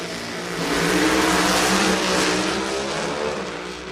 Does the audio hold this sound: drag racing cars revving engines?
yes